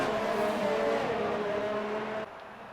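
A race car on soft tyres in a racing video game at a China circuit accelerates hard, its engine note loud and rising before cutting off abruptly near the end.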